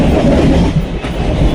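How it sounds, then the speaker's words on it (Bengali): A train rolls into a station, loud and close, its wagons rumbling with a rhythmic clickety-clack over the rails. "ট্রেনও ঢুকছে"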